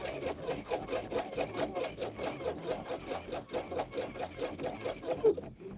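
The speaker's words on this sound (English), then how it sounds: "So now we're going to sew down to the bottom of our dart legs." A sewing machine runs steadily, stitching a single-thread couture dart, its needle beating in a fast, even rhythm for several seconds at close range before slowing and stopping near the end.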